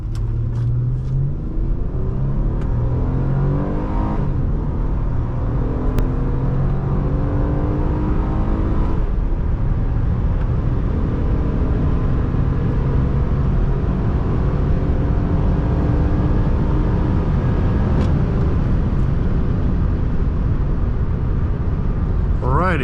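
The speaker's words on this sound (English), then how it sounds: "now let's head over to Mexico and do some acceleration testing" A 2007 Honda Accord Coupe EX-L V6 accelerates hard from a standstill, its engine note a loud, continuous rumble that climbs in steady surges through the gears for over twenty seconds, heard from inside the cabin with occasional faint voices.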